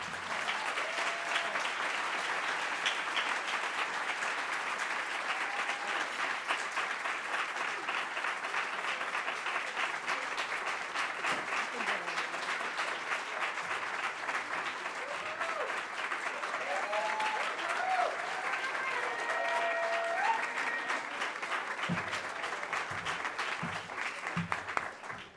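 A crowd applauds after a panel talk on Black freedom in America, a sustained, even roar of many hands clapping at moderate distance, with faint voices beneath it throughout.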